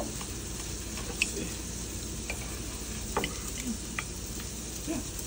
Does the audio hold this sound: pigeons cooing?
no